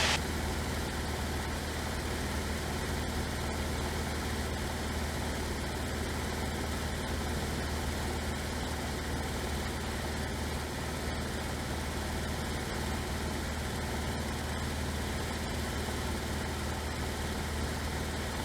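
A Luscombe light aircraft's piston engine runs at full throttle in flight, a steady, loud, unbroken drone with a constant low hum and broadband roar filling the whole stretch.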